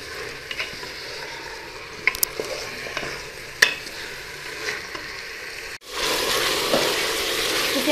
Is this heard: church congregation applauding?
no